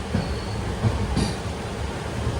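Steady rumble of the Deccan Queen Express running at Kalyan station on a very rainy day, a continuous close rolling drone with faint wheel squeals and clatter, no talking.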